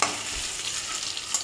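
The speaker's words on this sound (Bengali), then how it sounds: "দেখতে পাচ্ছ তোমরা, আমি আলুটা ভেজে নিচ্ছি।" Potatoes frying with turmeric in a pan, a steady close hiss of sizzling oil with a faint stir or scrape near the end, brief and without voices.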